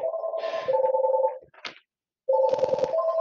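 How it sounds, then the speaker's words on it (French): An incoming call ringing on a 3CX business telephone system, a steady electronic two-tone ring in a repeating pattern, loud and close, broken by a brief gap of silence before ringing again. "Mon téléphone est en train de sonner."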